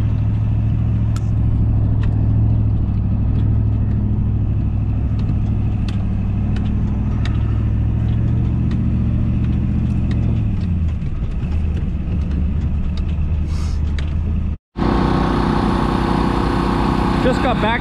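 A Volvo wheel loader's diesel engine runs steadily in snowy conditions with jumper cables attached, a continuous low rumble for most of the stretch, shifting near the end before a brief cutout and a louder, brighter burst of noise.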